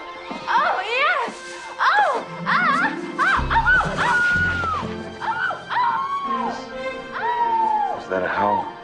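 A man imitates a dog's howl, letting out rising and falling wavering vocal cries over several seconds, mixed with other voices and exclamations close by.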